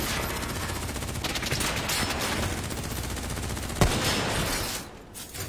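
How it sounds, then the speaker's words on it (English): Dense, sustained gunfire from a Call of Duty: Black Ops 3 firefight, rapid automatic bursts layered into a continuous loud roar with one sharp louder crack near the end before it thins out. "Who's shooting?"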